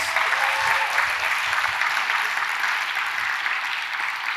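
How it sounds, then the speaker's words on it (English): A room full of people at an awards festival applauds steadily, the clapping dense and sustained the whole time. "Please give Amir another round of applause."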